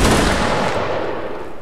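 A massed musket volley fired on command in a regiment-versus-regiment line battle game: one loud crash of many shots merging into a single roar that slowly fades away, with no talking.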